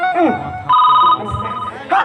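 An outgoing mobile phone call rings back with two electronic tones, each lasting about half a second with a short gap between, loud and close, with voices briefly heard before and after.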